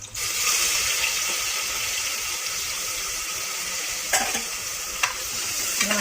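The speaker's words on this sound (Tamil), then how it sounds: "சின்ன வெங்காயம் நல்லா வதங்கணும்." Small onions with green chillies and curry leaves sauté in hot oil for a mutton gravy, giving a loud, steady sizzle close by, punctuated by occasional utensil clinks near the end.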